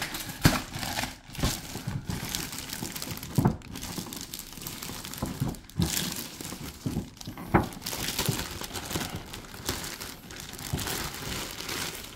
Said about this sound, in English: And we'll pull her out of her plastic bag.